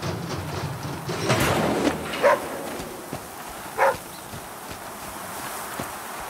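A companion dog in the survival game The Flame in the Flood gives two short, separate barks a second or so apart over a steady outdoor ambience with scattered footsteps and soft knocks.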